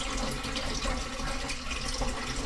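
Water runs steadily through a filter while being collected for cooking noodles, a continuous close splashing rush with no talking.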